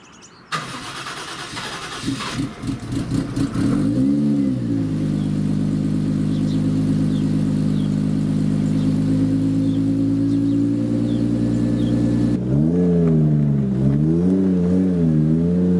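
A Nissan S14 car engine cranks and starts, then settles into a loud, steady idle before a series of throttle blips rev it up and down near the end, close by.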